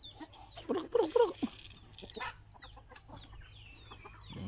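Free-range, pasture-raised Light Sussex heritage chickens clucking nearby in a burst of short, overlapping calls early on, then quieter scattered clucks and faint background chirps.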